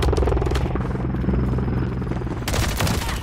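Loud helicopter rotor drone mixed with bursts of rapid gunfire and explosions in Modern Warfare 3, dense and continuous throughout.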